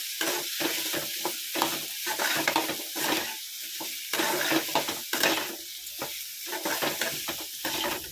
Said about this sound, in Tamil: நல்லா ப்ரௌன் கலரில் வதங்குற வரைக்கும் நல்லா வதக்கிடுங்க